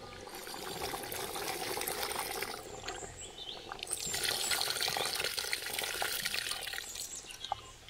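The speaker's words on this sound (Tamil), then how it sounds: "காய் வெந்துருச்சு கொஞ்சம் புளி ஊற்றிக்கிடுவோம்" Tamarind water is poured into sambar cooking in a village kitchen, a continuous close splashing, trickling stream that swells slightly midway, with no one speaking.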